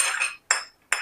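A spoon stirs green chili and ginger together in a bowl, giving three quick bursts of bright metallic scraping and clinking separated by short silent gaps.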